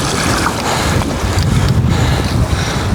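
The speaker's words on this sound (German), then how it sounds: "Bei dem Wind hier." Strong wind buffets a small fishing boat on open water, a steady roaring rush with gusty microphone buffeting and sloshing throughout, loud and continuous with no talking.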